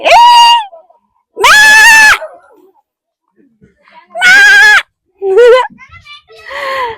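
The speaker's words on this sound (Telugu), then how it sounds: "మేకలు కూడా ఉన్నాయి" Goats bleat loudly several times, nearby, in harsh wavering calls separated by brief pauses, in a village mango orchard.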